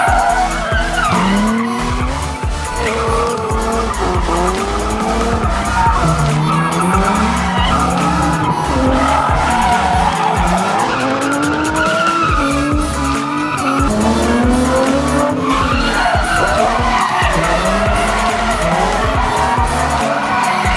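A black Nissan 370 drifts with sustained loud tire squeal and a roaring engine revving up and down, continuous and close for about twenty seconds.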